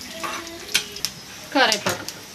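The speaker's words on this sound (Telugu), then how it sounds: "కరివేపాకు కూడా వేసుకొని వేపుకోండి" Curry leaves frying in a hot tempering for sambar give a sizzle under sharp metallic clinks of a spoon stirring in the pan, with light speech-like sounds nearby.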